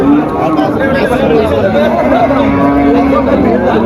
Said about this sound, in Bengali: এইখানে হচ্ছে প্রচুর পরিমাণে হাড্ডি গরু আছে